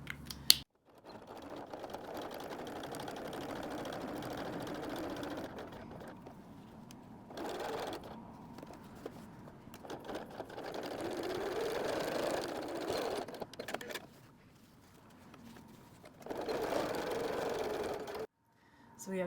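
A sewing machine stitches the flap of a messenger bag in several bursts, running steady for a few seconds and then pausing. Quiet gaps fall between the runs, and a faint voice may sit underneath.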